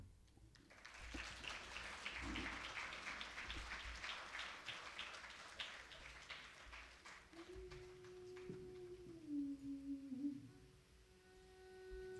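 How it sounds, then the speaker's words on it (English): An audience at a Bharatanatyam arangetram debut performance in Jacksonville claps steadily to welcome the dancer. The sustained applause gradually thins, and a held musical tone enters near the end. "please cheer, give your big applaud welcoming our star of this evening, Tejashree Vijay."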